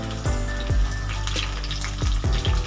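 Onions browned in a pan for a chicken with green peas dish hiss and sizzle steadily as tomatoes go in, with a few soft splashy bursts and clinks over the continuous frying noise.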